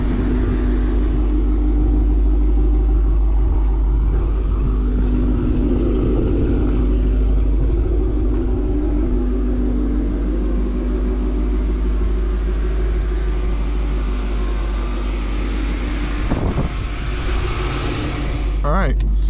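A 2016 Ford Mustang GT with Kooks headers and a Corsa Extreme cat-back exhaust runs close by, a loud, steady low rumble with a slight swell in revs. A brief sharp knock comes near the end.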